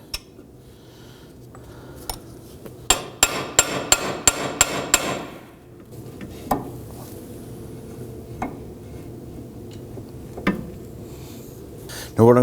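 Hammer taps seating a front steering knuckle on a 2005-2009 Subaru Legacy: a quick run of about seven sharp metallic strikes, then a few scattered louder knocks, close and clear over faint workshop background.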